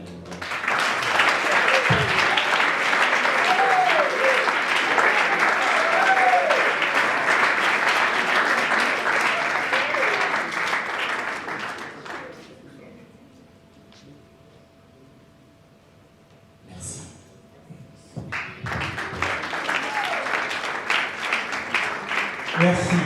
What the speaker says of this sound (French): je vous redemande d'applaudir frénétiquement M. Faustin Sopari.